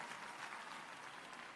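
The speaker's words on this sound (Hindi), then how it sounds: "जरा ताली बजा के ऐसे शिक्षकों का स्वागत करें।" A school audience applauding teachers, a dense, even patter of many hands clapping, faint and distant, with no voices.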